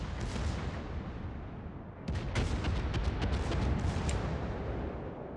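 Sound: torpedo hits on ship in World of Warships video game

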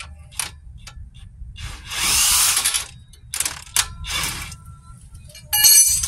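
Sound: impact gun removing front shock absorber bolt, Nissan Cube

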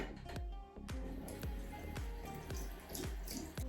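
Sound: face brush held under running water

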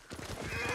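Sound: horse in video game Ghost of Tsushima

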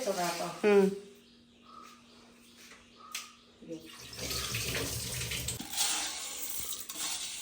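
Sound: washing food under running tap water

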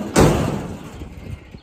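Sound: crooked stock trailer door swinging shut

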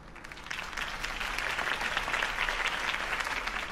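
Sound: crowd applause in a video game

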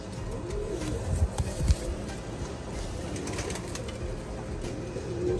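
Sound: pigeons cooing in loft

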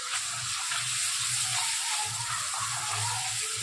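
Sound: sautéing spiced tomato and onion gravy in a pan

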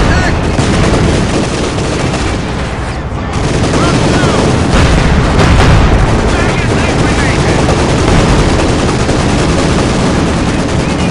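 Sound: tank battle gunfire and explosions from video game Company of Heroes 2

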